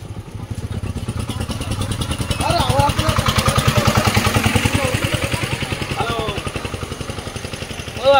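A bus engine running with a rapid, even throbbing pulse, close by, while people talk over it as it pulls into a stand at Gadkhali.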